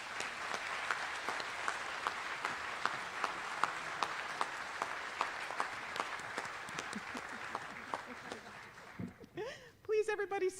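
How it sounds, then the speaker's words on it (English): Sustained applause from a large audience at a medical school White Coat Ceremony, dense steady clapping for about nine seconds that thins out near the end as a voice begins speaking. "let's give them a big round of applause"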